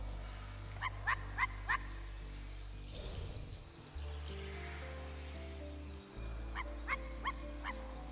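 Two quick runs of three sharp dog barks from the video game I Am Dead, one early and one near the end, each over a steady low synth music bed with a soft rumbling swell in the middle.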